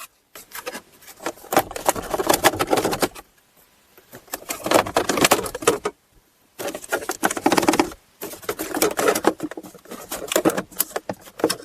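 Plastic steering column covers on a Pontiac Grand Prix are pried apart in three bursts of close rubbing, creaking and clicking, separated by short silent pauses.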